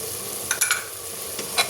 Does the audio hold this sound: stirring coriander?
yes